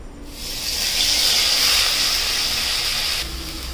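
Ground spice paste sizzles steadily in hot oil and ghee for an egg shahi korma, a loud continuous hiss that swells after a moment and eases slightly near the end, with no voices.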